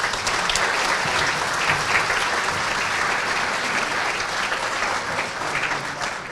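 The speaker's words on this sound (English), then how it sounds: "Let's have a big round of applause for all of our sponsors" Guests at a black tie charity gala give a big round of applause for the sponsors, continuous and fairly loud clapping from a large room that carries on for several seconds without anyone speaking.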